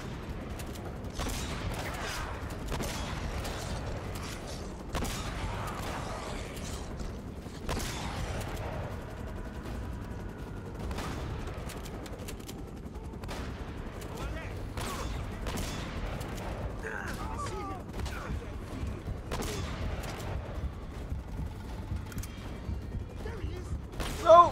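Shotgun fire in Uncharted: Drake's Fortune during a firefight: scattered sharp blasts and impacts over roughly half a minute, mixed with clanks, debris and background game noise, moderately loud and irregular.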